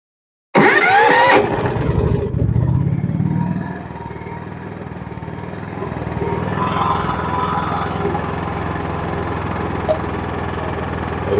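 An AIMS 6600-watt 120V/240V portable inverter generator is started and runs nearby. A loud start is followed by a steady engine drone that settles into a quieter, even idle after a few seconds and holds there without talk.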